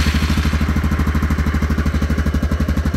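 A motorcycle in first gear idles with a steady, loud low chug, its rapid even engine pulses running throughout at close range with a light mechanical clatter and no talk.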